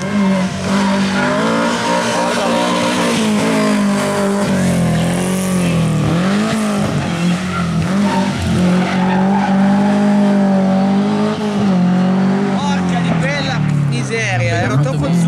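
A rally car slides sideways past on a race stage at the Chieri event, its loud engine revving and whining steadily with tyre scrub, close and sustained throughout, while spectators talk excitedly over it.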